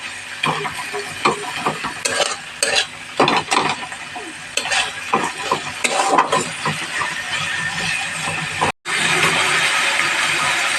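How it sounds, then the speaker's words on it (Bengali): Onions frying in a pan are stirred with repeated scraping strokes in an uneven rhythm over a continuous close sizzle, followed by a brief cut and then an unbroken loud sizzle. "পেঁয়াজটা যাতে একটু নরম হয়ে যায় ভালো করে নাড়াচাড়া করে নেবো, ভেজে নেবো"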